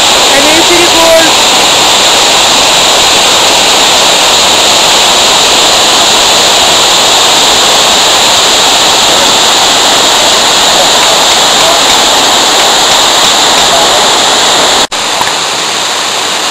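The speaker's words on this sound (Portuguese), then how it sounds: "Décima segunda cachoeira com 20 metros." Twelfth waterfall of a gorge, about 20 metres high, roaring as a steady, loud broadband rush of falling water that fills the whole scene, cutting off abruptly near the end.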